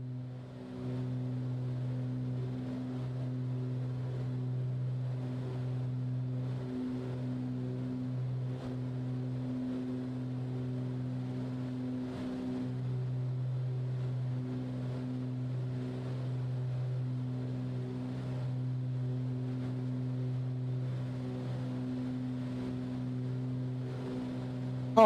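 Twin piston engines of a Beechcraft BE58 Baron in a flight simulator game, flying over Patagonia, drone in a steady, loud, continuous hum with slight pitch wavering throughout, no voices over it.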